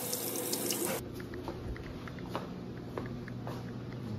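Kitchen tap water runs over a large piece of fish being rinsed, a steady splashing stream that shifts in tone as the fish moves under it, with a few faint clinks and taps around it.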